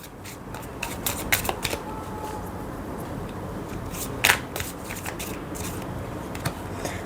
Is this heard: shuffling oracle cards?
yes